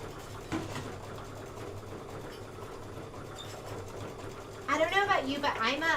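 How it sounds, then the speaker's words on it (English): An embroidery sewing machine stitches a Kimberbell design in a steady, close, buzzing whir that runs throughout, with a person talking over it near the end. "This is going to be just a minute of stitching."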